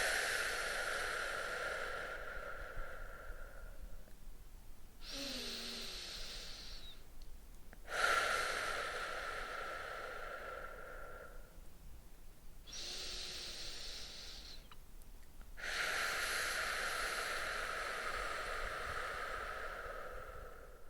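Slow, gentle breathing during a children's skunk meditation: long soft breaths in and out, close and quiet, repeating in a steady rhythm with brief pauses between.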